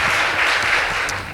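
Applause for a high school girls' debate team at a school debate competition, a dense steady round of clapping from the audience filling the whole short stretch.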